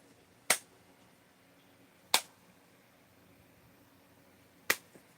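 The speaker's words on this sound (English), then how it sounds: "keep clapping in the air, you know, squishing the mosquitoes" Three sharp, isolated hand claps in the open air, swatting at mosquitoes, spaced a couple of seconds apart against a quiet outdoor background with no talking.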